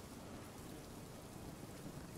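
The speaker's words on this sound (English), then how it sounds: "I probably want to wait until it's stopped hailing and raining, though." Heavy rain and hail in the survival video game Nightingale make a dense, even roar that holds steady throughout, with no voices over it.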